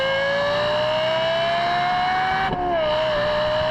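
A Lexus LFA engine holds a loud, smooth, high-pitched wail that climbs steadily, then dips briefly at a gear change before pulling upward again, heard close with no voices.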